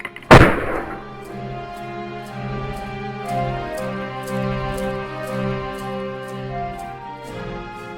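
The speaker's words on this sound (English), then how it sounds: "The pleasant morning suddenly turned violent with a single gunshot." A single loud gunshot cracks at the start during a frontier raid on a farm front yard, followed by sustained orchestral music with no voices.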